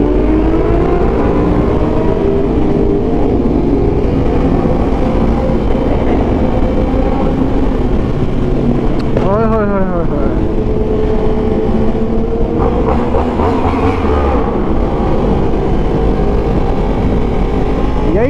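Loud Yamaha YZF R1 motorcycles with aftermarket exhausts roar continuously in an enclosed, echoing tunnel, with revving rises and a passing vehicle whine partway through.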